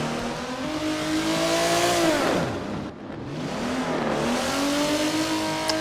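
A race car drifting on a track at a Yas Marina event roars loudly with a revving engine that sweeps up and down, and tire noise swells as it slides past close by, with no talking.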